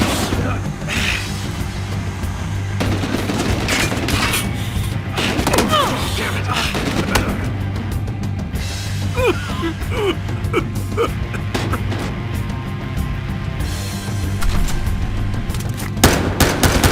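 Gunfire and grenade blasts from a Battlefield Hardline shootout, with bursts and booms scattered throughout over a steady battle din, while people talk over the action.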